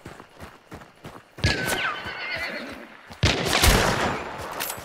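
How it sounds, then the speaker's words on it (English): In the Hunt: Showdown video game, a horse whinnies sharply amid a tense firefight, with bursts of gunfire and loud blasts around it. "That horse gave me away."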